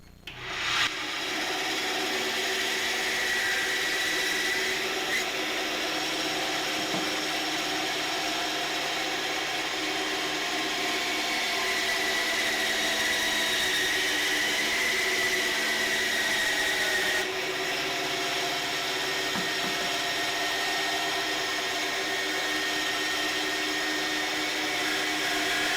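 A power tool cuts a balsa wood block for a fishing float, a steady whining drone that holds close and even throughout with no talk.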